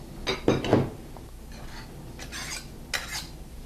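Baking ingredients being stirred together in a bowl for blueberry muffins, with a few scraping, clinking strokes of utensil against the bowl early on, then lighter brief stirring sounds, close and fairly quiet.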